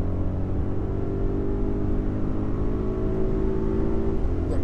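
An Audi RSQ8 in RS mode pulls hard at about 90 mph, its engine a steady, close rumbling drone with a faint rising whir and road noise, no voices over it.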